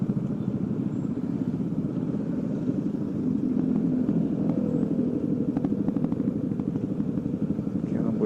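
Kawasaki ZX25R motorcycle engine on a street ride, a steady buzzing drone held close and loud throughout, with traffic noise and faint talk underneath.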